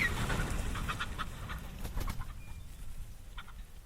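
Chickens moving about in a mobile trailer on a regenerative farm, scattered soft clucks and bird calls over a steady outdoor background hum, moderately close.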